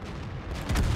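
A tank shell striking armour in the World of Tanks video game, involving a Leopard PTA: a short loud metallic boom with a heavy low rumble swelling near the end, close and alone.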